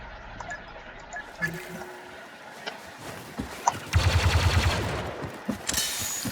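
Heavy weapon gunfire in the video game Star Wars Battlefront II: scattered shots and thumps, then a rapid burst of automatic fire, followed by more blasts in a busy combat mix.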